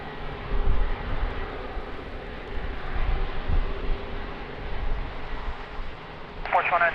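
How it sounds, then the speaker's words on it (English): An airplane landing at Lisbon Airport in a crosswind, a steady broad rumbling roar of engines and airflow throughout, ending in a short burst of sharper noise. "Very nice landing."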